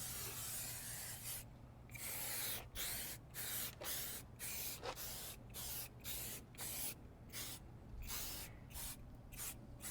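Repeated short hissing bursts from a spray bottle, close and fairly quiet, coming in an irregular rhythm with brief pauses between squirts.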